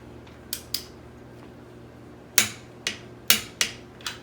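A torque wrench tightening a swingarm bolt to 43 on a Honda 400ex ATV, a few separate sharp metallic clicks, close and distinct, two early then a quicker cluster of four or five, with no talk.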